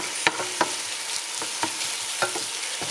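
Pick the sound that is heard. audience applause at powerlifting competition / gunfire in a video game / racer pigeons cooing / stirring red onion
stirring red onion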